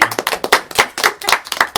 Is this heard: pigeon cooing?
no